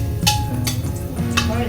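Garlic goes into a pan for chicken liver adobo, with a few brief scraping and clattering strokes against the pan over a low background hum.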